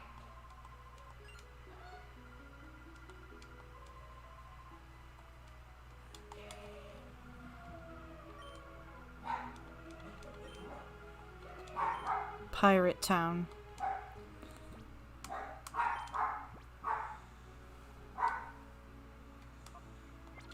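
A pet dog barks and yips in the background while someone at home plays with it: a scatter of short, fairly distant barks and whimpers under a person talking and video game sounds.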